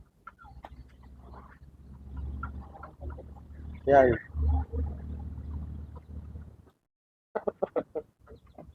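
Tanaka breed gamefowl chickens in a breeder's yard give scattered clucks and one loud, drawn-out call, heard under someone talking steadily nearby, followed by a short pause and a few sharp bursts.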